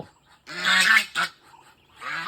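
Loud, nasal honking quacks from ducks up close, two bursts in quick succession followed by another after a short pause.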